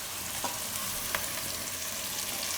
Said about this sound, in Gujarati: અને મિક્સ કરી દઈશું.